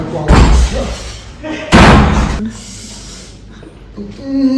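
A door bangs shut in a breezy Jamaican outdoor setting, two loud thuds close by, the second heavier, with people talking around them.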